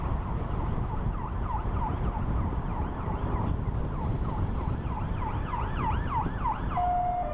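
A police car siren wails, rising and falling repeatedly over steady road and engine noise from a car driving toward Eltham, London, fairly close and continuous, ending on a held tone.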